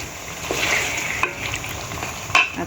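Biryani ingredients sautéing in a pan, a continuous close sizzle with a few sharp clinks of a spatula against the metal.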